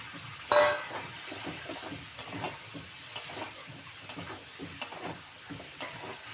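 Pointed gourd pieces dropped into hot spiced oil set off a sharp burst of sizzling, which settles into a steady fry broken by a few scattered clicks and scrapes of stirring.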